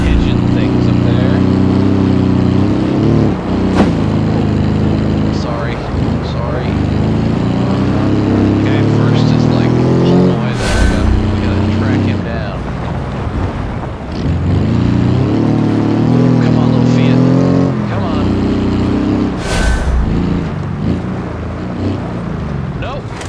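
A Fiat car's engine droning and revving in the BeamNG.drive driving game, loud and continuous with pitch rising and falling through gear changes, plus a couple of sharp knocks.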